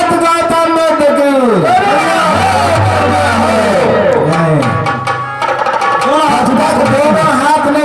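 A large crowd at a Buddhist gathering shouts a slogan together in loud unison, with layered voices rising and falling in repeated chanted phrases that fill the space.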